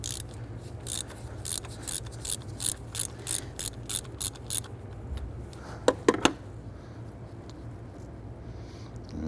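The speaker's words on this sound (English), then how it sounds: "We're gonna use a 3/4 inch socket, deep socket, loosen and remove our coolant temp sensor." Ratchet with a 3/4 inch deep socket loosening a coolant temperature sensor on a 4.7L V8 Jeep Grand Cherokee: a series of crisp, regular clicking bursts, then a couple of sharper metallic clacks, close up with a faint hum behind.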